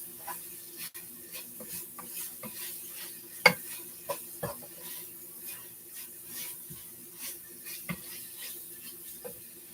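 Hamburger meat and chopped onions fry quietly in a pan for goulash, a soft sizzle under scattered clicks and scrapes from stirring, some louder than others.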